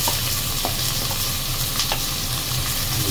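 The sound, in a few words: sautéing garlic, onion and ginger in a pan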